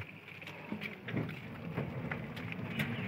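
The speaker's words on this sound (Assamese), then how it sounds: "এইয়া শংখ দি পানী পৰি আছে" Water pours from a conch shell during a Saraswati Puja, a faint, continuous trickle with irregular patters and drips that spreads in the distance.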